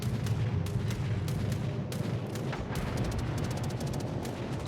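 Anti-aircraft guns fire during a World of Warships naval battle game, with rapid repeated bursts of cracks and booms over a dense rumbling low background, the shots speeding into quicker volleys toward the end.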